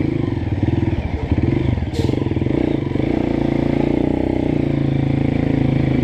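A Honda CRF 230 dirt bike is held at a low rumble for clutch control practice in the countryside. The engine is loud and close, with a brief stumble and rev change in the first two seconds, then a steady idle.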